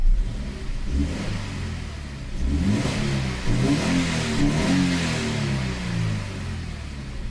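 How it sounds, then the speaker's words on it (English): A Toyota GT86 engine with an HKS intake kit revs up twice, rising and falling in pitch, then settles back toward idle, close and fairly loud. "Give it a couple revs, make sure nothing weird happens."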